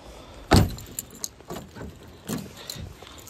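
After a car is parked at night, a sharp door thump sounds, followed by faint jangling keys and light clicks and rustles, all fairly close with no talking.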